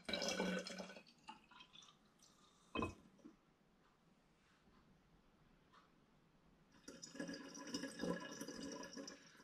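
Apple and cherry turbo cider siphons through a tube into glass bottles, with faint drips and soft trickling and a louder gurgling fill near the end, quiet and close.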